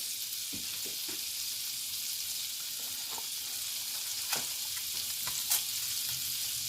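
Onions frying in melted butter, a continuous close sizzle with occasional soft crackles and stirring taps.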